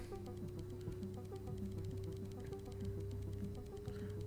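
Steady 500 Hz sine wave test tone in the video game Stories Untold, a faint, unbroken electronic whine that holds for the whole stretch over a low hum.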